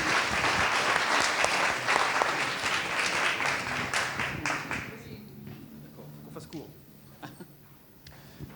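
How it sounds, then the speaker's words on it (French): Audience applause fills a hall at the close of a living-labs launch session, dense and loud for about five seconds before thinning to scattered claps and a few voices. "il faut les applaudir"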